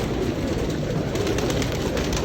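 Pigeons of a rare old breeder bloodline in a loft, cooing steadily under a constant hum of surrounding activity, with soft repeated low calls throughout.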